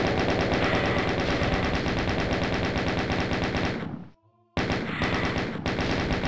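Rapid automatic gunfire from the video game Doom, a dense rattling burst of shots that runs for several seconds, breaks off into a short near-silence with a faint tone, then resumes just as loud.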